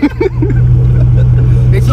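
Dodge truck engine running steadily with a strong low hum, loud and close throughout, while someone talks over it.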